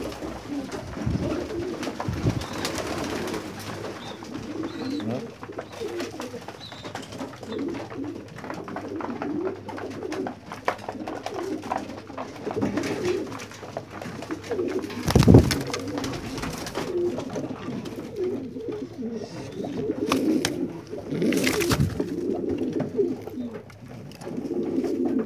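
Pigeons in a loft keep up a steady, overlapping murmur of low cooing at close range, with occasional rustling and a few sharp knocks, and no one talking.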